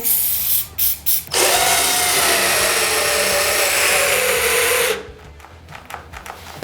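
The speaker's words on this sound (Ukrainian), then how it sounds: "тепер давайте сверло 10 мм, то вже цікавіше пішло" A cordless drill with a 10 mm bit whines loudly and steadily for about four seconds after a few short bursts, then cuts out into quieter handling noises; no talking.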